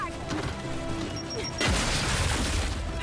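A grenade goes off in the video game Gears 5. Quieter battle noise and a faint tone give way to a sudden heavy blast that rolls on as a deep, sustained rumble.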